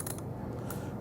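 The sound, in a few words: unscrewing the cylinder of a GX-7 gun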